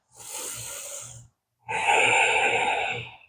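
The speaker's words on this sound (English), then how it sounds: "As you're breathing out your nose is when you're making that kind of oceany breath." Two long, breathy exhalations of ujjayi ocean breath through the nose during a yoga stretch-and-tone session, each a steady throaty rush lasting over a second, close and clear with a short pause between them and no talk.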